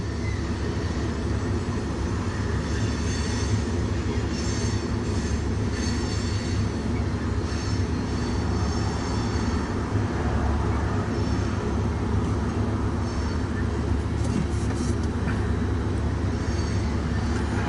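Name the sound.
train passing on the Sioux City subdivision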